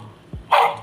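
A Doly desktop robot imitates a dog with a short electronic bark, a single close burst framed by faint low clicks.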